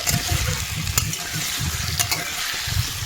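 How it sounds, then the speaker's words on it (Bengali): Taro (arum) pieces frying in a pan with onion for a hilsa and arum curry, a close, crackling sizzle with rhythmic spatula stirs and a few sharp clinks against the pan; no voices. "তারপরে কচুটা দিয়ে ভালোভাবে কচুগুলোও ভালো করে ভেজে নেব"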